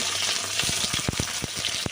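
Pointed gourd (potol) coated in poppy seeds frying in hot oil gives a steady, close crackling sizzle, broken by a few soft knocks as the pieces are stirred, with no talk.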